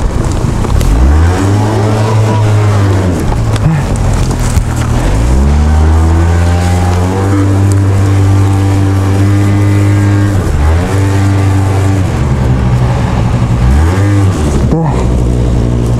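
A heavily laden Honda Giorno scooter strains uphill on a long road trip, its small engine droning loudly close up with repeated rising and falling revs as it labours, and a few wind-buffeted moments mixed in.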